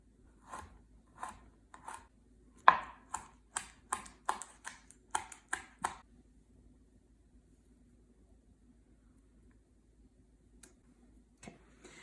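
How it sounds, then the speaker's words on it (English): A knife slices garlic and a bay leaf on a cutting board, giving about a dozen crisp, evenly spaced taps close up. Then comes a long quiet stretch with two faint clicks near the end. "I'm going to slice up the garlic and the bay leaf"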